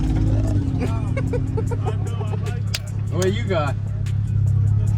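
Hellcat engine at a car meet, a supercharged 6.2 idling loud and close with a steady low rumble and brief revs, while several people talk over it.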